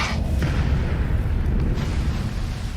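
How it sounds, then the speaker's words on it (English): An explosion effect in an audio horror story: a dense, low, rumbling boom that sustains at full loudness for a few seconds, close and alone without talk. "The explosion hit me full in the back and knocked me straight down."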